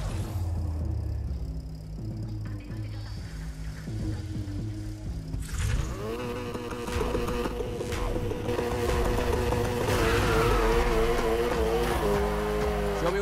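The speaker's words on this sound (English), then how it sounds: "Slam on the gas to initiate, then steering and control is all up to you." Race car in Need for Speed Heat accelerating hard and drifting, its engine rising in pitch after a quieter stretch, loud and steady with tire noise under game music.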